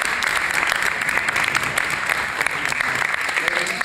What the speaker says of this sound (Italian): che merita anche lei un applauso.